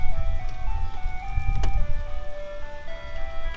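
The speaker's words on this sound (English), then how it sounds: "this is awkward because we have the ice cream truck now." An ice cream truck's jingle plays a bright, stepping melody while the vehicle's engine rumbles nearby, loud and passing close by.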